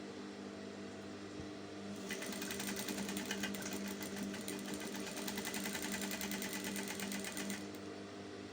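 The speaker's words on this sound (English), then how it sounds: "I'm going to sew right side facing right side as well" A sewing machine stitches a seam on a halterneck shift dress, right sides facing, in one continuous burst that starts after a quieter lead-in and stops near the end, heard close over a low room hum.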